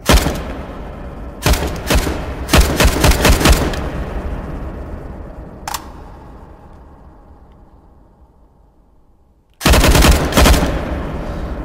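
Long sniper rifles fire loud, close sharp shots at an outdoor marksman session, a quick cluster of several reports followed by a long decaying echo, then another burst of shots.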